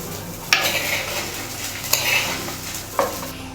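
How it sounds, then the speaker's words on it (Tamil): Dried red chillies roasting in a pan while being stirred: a soft continuous sizzle broken by three sharp scrapes or taps of the spoon against the pan, close and alone without speech. "இப்போ காஞ்ச மிளகாய் நல்லா வறுபட்டுருச்சு."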